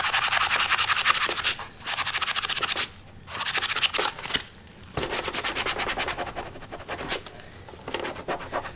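Microfiber cloth buffing the surface of an original Xbox video game console: close, steady scratchy rubbing strokes in bursts with brief pauses between them, no voices.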